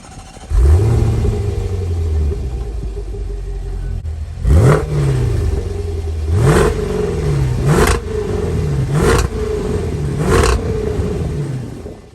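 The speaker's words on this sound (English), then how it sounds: "So up front, we have a 5-liter supercharged V8 pushing out 550 horsepower, 502 pound-feet of torque" A Range Rover Velar SV's 5-liter supercharged V8, rated at 550 horsepower, revs loudly up close: an opening blip, then five sharp throttle stabs that rise and fall back over a rumbling idle.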